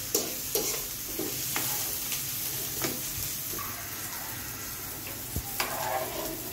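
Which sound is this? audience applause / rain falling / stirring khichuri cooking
stirring khichuri cooking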